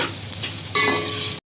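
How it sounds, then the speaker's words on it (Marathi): Onion sautéing in a pan until golden brown for vegetable pulao, a dense close sizzle that swells louder partway through with faint scraping, then cuts off abruptly. "गोल्डन ब्राऊन होईपर्यंत आपल्याला परतून घ्यायचं आहे"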